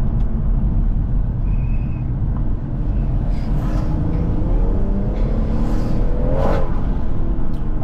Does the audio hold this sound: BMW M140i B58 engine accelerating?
yes